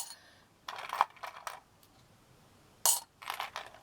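Small metal buttons and a metal plate clink and rattle while being handled, brief bright jingling bursts separated by quiet gaps, close and fairly quiet.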